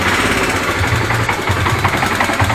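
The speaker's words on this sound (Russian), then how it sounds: "Вот так вот гремит мотор." A Yamaha TW200 motorcycle engine with a worn, knocking crankshaft runs steadily up close, giving a dense, rough mechanical clatter with a continuous low rhythmic pulsing throughout.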